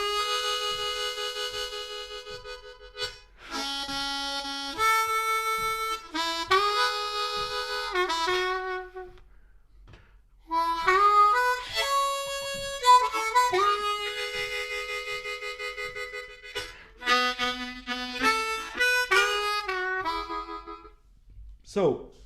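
A harmonica plays a melody of single notes without tongue blocking, heard alone in phrases with short pauses between them, the tone clear and reedy at a steady moderate loudness.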